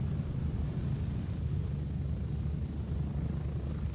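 A helicopter flies in a jungle video game, a steady low rotor rumble that holds at an even, moderate level throughout with no talk over it.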